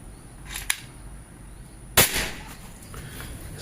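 A Predator Monel Big Game PCP air rifle, 4000 psi on its big game setting, fires a single sharp, loud crack, with a softer tick just before it in a quiet setting.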